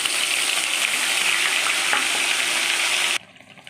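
Ground spice paste hits hot oil left from frying katla fish, with nigella seeds already tempered in it, producing a loud, dense sizzle that holds steady and then cuts off sharply near the end.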